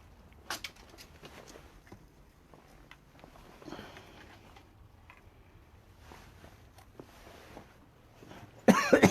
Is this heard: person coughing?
yes